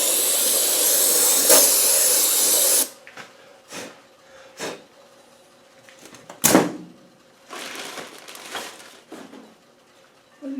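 Brake cleaner sprays in a loud continuous hiss for a few seconds while a Puma transfer case casing is stripped, followed by shorter bursts of spraying and scattered clanks close by.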